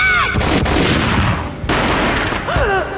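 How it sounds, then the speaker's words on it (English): Gunfire in the PC game Max Payne: a loud, sustained burst of shots lasting about two seconds, with a voice heard briefly just before and after it. "A gunshot boomed and she fell down in slow motion."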